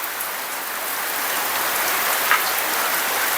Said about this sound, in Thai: นอนฟังเสียงฝนสบายเนาะ